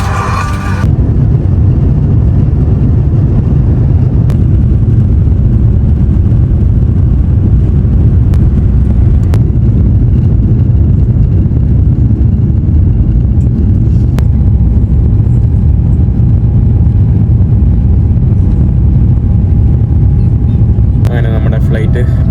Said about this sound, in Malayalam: ഫ്ലൈറ്റ് ടേക്ക് ഓഫ് ചെയ്തു.